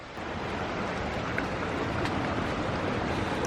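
Steady broadband rush of flowing water beneath a wonky footbridge on a wet, fern-lined hiking trail up Pico Duarte in the Dominican Republic, continuous and fairly loud throughout with a faint wind-like hiss.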